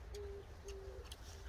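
A wild turtle dove coos outdoors on a farm plot, three short, low, steady hoots repeating at an even pace, fairly faint and distant over a constant low rumble of background noise.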